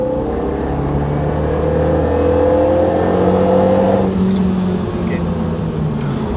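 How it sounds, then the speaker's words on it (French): A car accelerates steadily from around 70 km/h, its engine hum climbing in pitch as the gears shift, loud and continuous with no talk over it. "Ça accélère quand même, hein."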